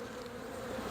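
A swarm of honeybees being sorted by hand while searching for the queen gives off a dense, continuous buzz, close and steady with no voices.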